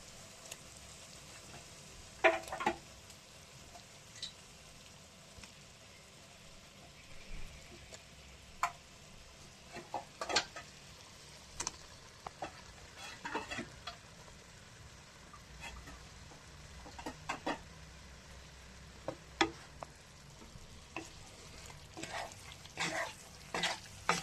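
Fish laid into spiced oil in a pan, a low steady sizzle with scattered clicks and scraping taps of a utensil, fairly quiet with no talking.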